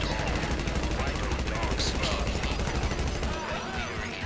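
Rapid gunfire in GTA V Online during the final heist, a dense sustained rattle of shots running almost the whole time with a player's voice talking over it.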